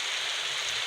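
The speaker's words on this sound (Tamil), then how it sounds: "மழை வேறு பெய்யுது" Rain falls in a video game, a steady, even hiss of rain on surfaces, soft and continuous with no talk.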